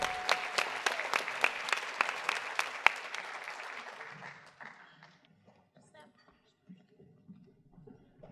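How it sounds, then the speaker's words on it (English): A crowd at a hall of honor induction ceremony applauds with rhythmic clapping that fades out after about four seconds, followed by quiet murmuring voices and scattered rustle. "Let's have more round of applause for this group."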